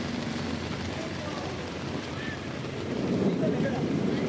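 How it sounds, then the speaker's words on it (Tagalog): Heavy rain pours down on a busy Divisoria market street, a steady dense hiss of drops on surfaces and umbrellas that swells louder toward the end, with wind buffeting the microphone. "Yan ang sitwasyon guys dito sa, sa Divisoria habang tayo ay inabutan ng pagkalakas-lakas ng ulan."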